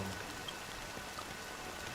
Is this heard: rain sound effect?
yes